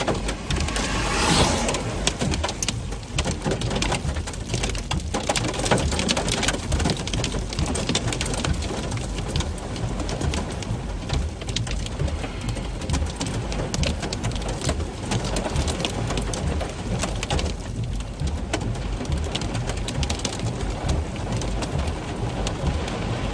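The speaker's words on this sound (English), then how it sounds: "It looks like the rain has arrived." Rain falling hard during a storm chase on the High Plains, a dense, loud, continuous patter and wash that runs unbroken from start to finish, likely heard from inside a vehicle.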